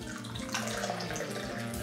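A light green cocktail pours steadily into a glass for a couple of seconds, a soft continuous splashing trickle heard up close.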